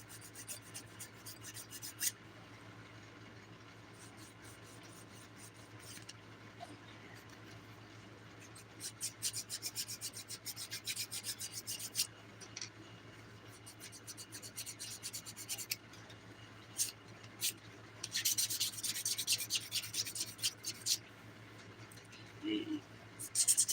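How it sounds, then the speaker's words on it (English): A nail file rasps across fingernails during a Dipnotic Nails dip powder manicure, giving faint bursts of scratchy strokes in uneven runs with quiet pauses between them, under soft background talk. "So, Brandis, I'm filing a Dipnotic Nails Mani"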